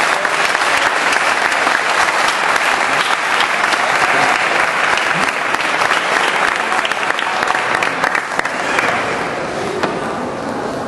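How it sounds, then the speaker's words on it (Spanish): Loud, sustained applause from a crowd honoring volunteers at a Pakistan solidarity dinner at the Maritime Museum of Barcelona, dense clapping holding steady for about eleven seconds. "un aplauso muy fuerte para esta gente."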